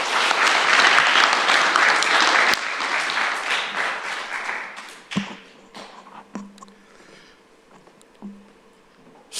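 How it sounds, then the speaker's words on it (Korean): A burst of enthusiastic clapping from a church congregation, loud at first and then thinning out into a few scattered claps and taps. "박수로 환영합시다."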